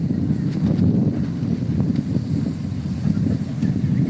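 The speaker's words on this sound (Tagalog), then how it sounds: "Mukhang malakas pa din hangin." Strong wind roaring across an outdoor microphone, a loud continuous low rumble with gusty buffeting and no speech.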